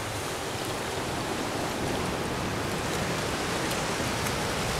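Fresh water rushes steadily near ocean surf, a dense, continuous broadband wash that stays loud and unbroken throughout with no voices.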